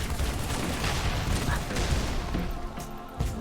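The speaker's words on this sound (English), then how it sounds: "Flash grenade." Flash grenade and gunfire in the Halo 3 video game, a dense stretch of rapid shots and bangs with a sharp burst near the end, all at a fairly steady loud level.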